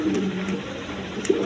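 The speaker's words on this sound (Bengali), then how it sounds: "এখানে এক পেয়ার মুন্ডিয়ান কবুতর আছে" A pair of Mundian pigeons coo softly and close by, giving a few short low calls over a quiet background.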